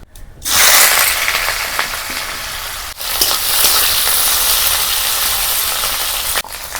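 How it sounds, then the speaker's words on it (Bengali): Bitter gourd hits hot mustard oil with a loud, steady sizzle. The frying noise holds throughout, briefly dipping twice, as if the pan is stirred or pieces shift. "এই একই তেলে এবার উচ্ছেগুলোকেও দিয়ে দেব।"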